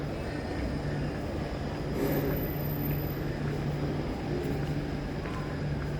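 A train running toward Penkridge rumbles steadily with a dense, constant roar and a faint tonal whine from the wheels and motors, heard from on board, with no voices.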